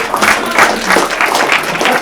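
Brief applause from attendees at a Bay Area house-flipping meetup, honoring a man at the back of the room; loud, dense clapping over about two seconds with a few voices mixed in.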